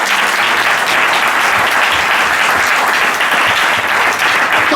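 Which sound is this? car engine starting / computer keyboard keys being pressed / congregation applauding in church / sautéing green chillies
congregation applauding in church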